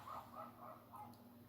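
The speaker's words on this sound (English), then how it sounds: "I don't know if you can hear the dogs barking." Several dogs, including poodles, barking outdoors at night, distant and muffled, with repeated yaps spread steadily through the background.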